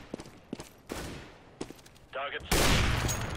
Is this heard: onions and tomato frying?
no